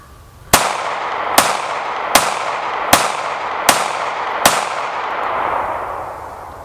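Six sharp, loud gunshots from a Springfield 911 pistol in .380 ACP, fired at a steady pace about three quarters of a second apart, each crack trailing into a ringing outdoor decay with no talk.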